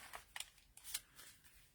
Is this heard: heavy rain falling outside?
no